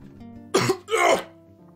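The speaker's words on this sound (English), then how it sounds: "So you guys just got to hear me hack." A person gives two quick, harsh coughs close to the microphone, a short hacking burst followed by a longer one, with no talking around them.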